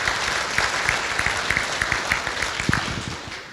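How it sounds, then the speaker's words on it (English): Audience applause at an elected officials forum, a dense steady clatter of many hands clapping with no voices over it. "So if you could give them a round of applause for the work that they"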